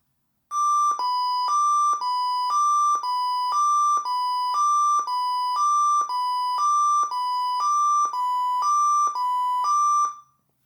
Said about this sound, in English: when you press the emergency call button, you'll hear a confirmation siren and the button will light up